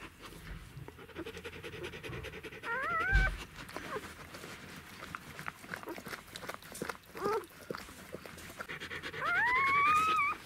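Newborn puppies whimper with thin, rising squeals while rooting for a teat, a few scattered bursts near and fairly clear over soft shuffling and background noise, the longest cry at the end.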